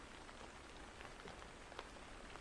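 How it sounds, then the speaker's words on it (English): Soft, steady rain patters against a window pane in a continuous, faint hiss with scattered drops and no voices. "You can go up to the window and you'll hear the rain hit the window."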